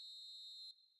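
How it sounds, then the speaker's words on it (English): A referee's half-time whistle in an eFootball match, a single loud, steady shrill tone held for most of a second before dropping away, with no talk. "And there is the half-time whistle."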